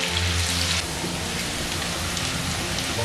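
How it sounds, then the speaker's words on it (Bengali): Chopped onion frying in hot oil in a wok gives a dense, continuous sizzle close up, crackling steadily like rain for the whole stretch. "এবার এর মধ্যে দিয়ে দিচ্ছি একটা কুচনো পেঁয়াজ। এখন পেঁয়াজটাকেও 1 মিনিটের মতন ভেজে নিতে হবে।"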